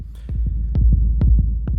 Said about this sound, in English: we're going to want to have all this low end rumble